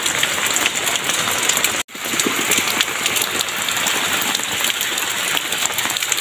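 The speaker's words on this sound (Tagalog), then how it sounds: "Ang lakas ng ulan." Heavy rain pours down outdoors by stone steps in West Rembo, a loud, dense and continuous hiss of drops pattering on surfaces, briefly cut off for an instant before resuming just as strongly.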